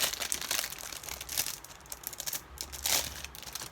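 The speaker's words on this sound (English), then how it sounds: "Let me open the plastic." Plastic packaging from a giveaway prize being torn open and crinkled by hand, with close, irregular bursts of crackling and rustling and brief pauses.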